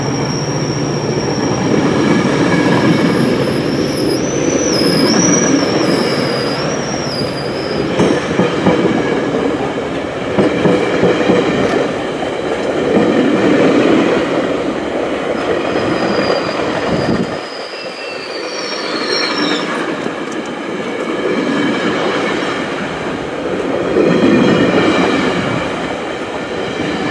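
A CN freight train led by a single locomotive rolls past on its way north toward Mount Albert, with loud continuous rumbling, rail clatter and high wheel squeal, and a brief dip in the low end partway through.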